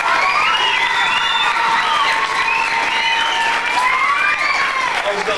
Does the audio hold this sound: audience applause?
yes